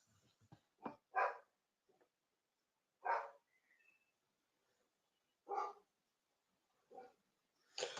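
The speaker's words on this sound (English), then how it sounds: "Dogs are barking." A dog barks in short, separate bursts, a few quick ones early and then spaced single barks, fairly close with quiet gaps between.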